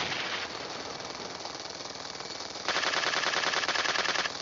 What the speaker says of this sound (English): Are you about to get your minigun?